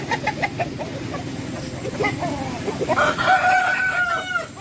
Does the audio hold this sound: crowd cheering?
no